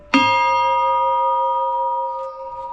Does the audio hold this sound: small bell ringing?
yes